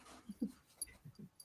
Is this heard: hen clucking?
no